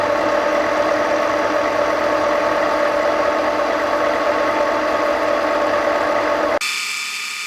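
An Acera milling machine with an indexing round table runs with a steady, loud motor hum and whine for about six and a half seconds before the sound cuts off abruptly.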